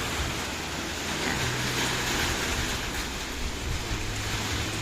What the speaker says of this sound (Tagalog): Yan, ito yung hangin.